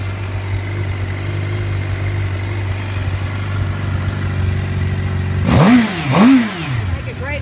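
A 2014 Suzuki GSX-R 750 motorcycle engine idles steadily up close, then gets two sharp throttle blips near the end, each revving up and dropping back to idle.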